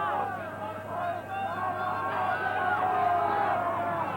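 A 25,000-strong crowd at Ballymore, Brisbane, chants through the second rugby test between Australia and the British and Irish Lions in 1989. The sustained, rolling roar from the stands runs throughout, with faint commentary voices beneath it.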